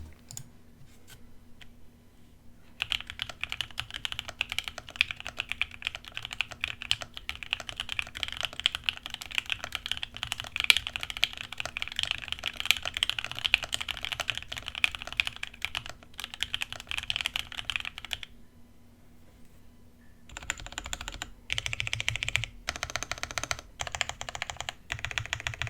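Rapid typing on an IV Works Av3 mechanical keyboard with OPBlack switches: dense, continuous keystroke clacks, close and crisp, pausing briefly near the end before a few final bursts.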